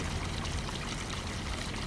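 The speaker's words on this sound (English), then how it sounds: "I just started loading in some water." Water loading into a gold extractor in Farming Simulator 19: a steady, dense pouring rush, constant and fairly faint, with no other sounds.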